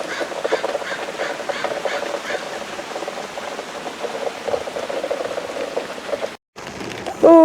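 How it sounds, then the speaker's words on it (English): Steady rain falls outdoors, an even hiss of drops on surfaces running throughout, briefly cutting out near the end before a short high squeak. "In the rain."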